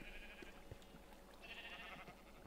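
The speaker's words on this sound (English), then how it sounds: "So I can already tell that there are sheep." Sheep in the Minecraft video game bleat twice in short, nasal calls a second apart, soft and somewhat distant over a quiet background.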